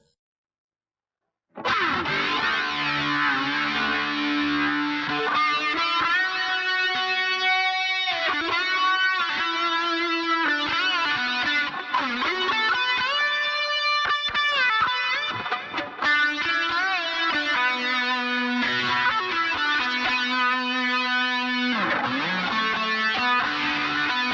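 An electric guitar on a Line 6 Helix plays a sustained, distorted melody, notes ringing into each other under a long 200-millisecond reverb wash at 40% mix, steady and loud throughout.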